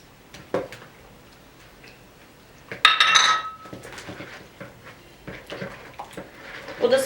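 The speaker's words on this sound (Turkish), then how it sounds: "Bal, pekmez, yumurta karışımımızı ve süt karıştırıyorum şu an." A utensil mixes honey, molasses, egg and milk in a bowl for cookie dough. It clinks and taps against the bowl in irregular strokes, with one louder scrape-and-ring in the middle, close and fairly quiet.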